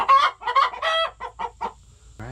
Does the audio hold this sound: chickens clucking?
yes